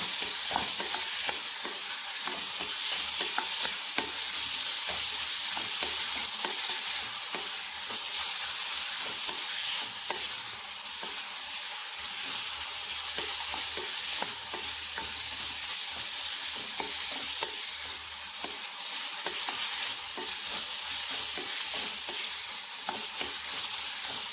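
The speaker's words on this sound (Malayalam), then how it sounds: "ഞാൻ ഇപ്പോൾ വേറെ ഇട്ടാണ് ഞാൻ വഴറ്റിയെടുക്കുന്നത്" Ripe tomatoes sautéing in a separate pan for a Saravana Bhavan-style tomato chutney, a loud, dense, continuous sizzle with rapid stirring scrapes running throughout, close up and without talking.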